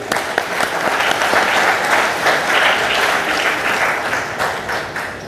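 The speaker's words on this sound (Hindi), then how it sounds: "एक बार आप सबके लिए ज़ोरदार तालियाँ।" Dense, steady applause fills an audience hall at a talk on environmental conservation, loud and sustained throughout with no speech over it.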